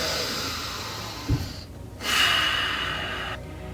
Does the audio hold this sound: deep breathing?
yes